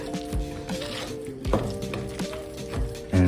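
Korean chili pepper powder and minced garlic are stirred together in a bowl, with soft knocks and scrapes of a utensil against the bowl's side at an uneven rhythm over a faint background tone.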